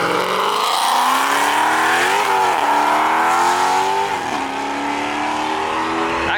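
A Toyota Supra at a car show revs hard and skids, its engine note climbing and dipping through several loud sweeps while tires squeal and smoke, close and continuous.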